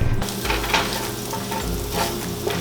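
Garlic lightly frying in olive oil in a home kitchen, with steady close sizzling and crackling throughout and a few stirring scrapes over it, no talking.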